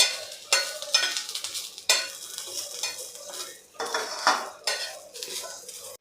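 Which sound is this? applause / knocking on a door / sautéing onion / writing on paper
sautéing onion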